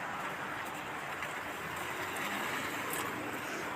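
Heavy rain in Kuwait, pouring as a dense, steady wash of noise that stays constant throughout, without breaks or distinct drops.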